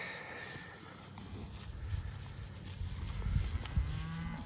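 Cattle moo on a farm pasture where a bull stands among cows with calves, low drawn-out lowing rising toward the end over a steady outdoor background, with no talk.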